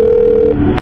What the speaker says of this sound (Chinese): 咱们给妈妈打个电话吧。